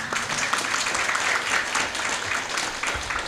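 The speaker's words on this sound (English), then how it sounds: "let us once again give applause for the speakers." Applause after a plenary session of an international English-language-teaching conference, a continuous patter of many hands clapping at moderate volume, with no voices above it.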